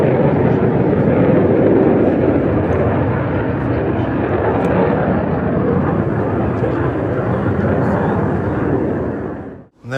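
Aircraft engines roar steadily and loudly throughout as planes taxi and take off at an airfield, a broad continuous rumble that holds for nearly the whole stretch before cutting off abruptly at the end.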